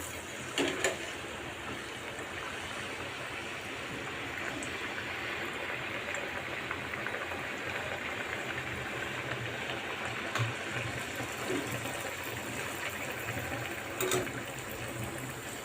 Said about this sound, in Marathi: स्लो गॅसवर मी वडा फ्राय करते